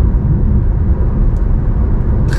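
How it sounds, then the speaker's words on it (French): Low, steady rolling rumble of tyres on the road heard from inside a car cruising around 120 km/h, a faint smooth drone with no talk. "Très léger bruit de roulement."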